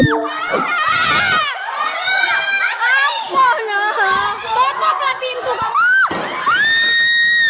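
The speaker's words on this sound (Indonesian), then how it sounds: "Para siswa SMA 4 Mandiangin ini berteriak histeris saat mengetahui pengeroyokan pada temannya." High school students at SMA 4 Mandiangin scream hysterically during a gang assault on a classmate, a dense crowd of shrill overlapping shrieks and shouted voices that rise and fall continuously, loud and close, with a fresh burst of screaming near the end.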